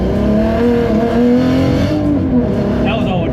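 A Volkswagen MK4 R32 with all-wheel drive and a Haldex setup accelerates hard, its engine a loud, close, steady roar climbing in pitch as it revs up through the run.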